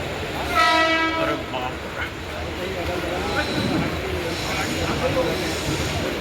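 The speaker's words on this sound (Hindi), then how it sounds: "देखो ट्रेन आ गई, जैसे तैसे चढ़ गया।" Mumbai local train pulling into a station, a horn blast with stacked harmonic tones early on, then a steady rumble of wheels and carriages rolling in amid crowd noise and talking nearby.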